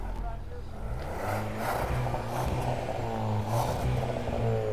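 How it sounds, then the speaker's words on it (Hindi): Volkswagen Virtus GT fitted with a cat-back exhaust, valvetronic valve closed, idling and revving with a steady low rumble and a few rising engine swells, close to the microphone. "तो मैंने भाई देखा था पीछे हमने कैटबैक एग्जॉस्ट, हाँ, एक बार उसकी आवाज़ सुना दो।"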